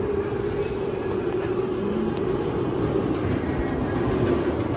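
Roller coaster ride vehicles launching at Disneyland Paris, sent two cars at a time, give a steady rumbling roar with rail noise that holds at an even level throughout.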